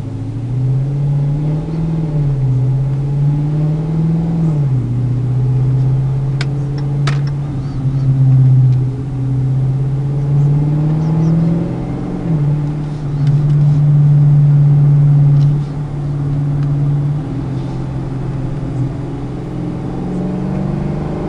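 A Dodge Charger with a 5.7L Hemi V8 pulls hard under acceleration, its deep engine note holding loud and close for the full stretch with steady rises and dips, no talk over it.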